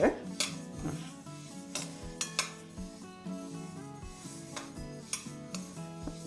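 Sesame seeds roasting over a medium flame in a pan for Sankranti ellu holige, stirred with a spatula that scrapes and clinks against the metal in irregular strokes, heard under steady background music.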